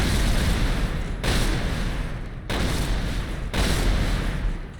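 The Shredder weapon in Turok 2 fires in four loud, harsh bursts of roughly a second each, separated by brief gaps, with no voice over them.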